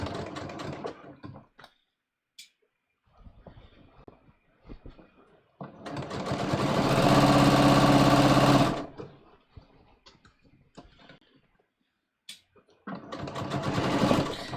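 A sewing machine stitches a jeans waistband seam in one loud sustained run of about three seconds, framed by short stop-start bursts and quiet pauses with faint handling noises.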